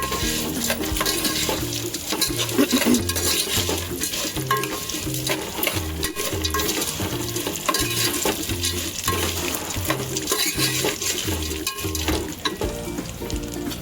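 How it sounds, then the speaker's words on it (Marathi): Roasted, skinned peanuts are stir-fried into chivda in a pan, a steady close sizzle with rhythmic scraping and stirring strokes of a spoon against the metal throughout. "आता हे पण आपण त्याच्यात टाकत आहोत आणि परतवून घेत आहोत"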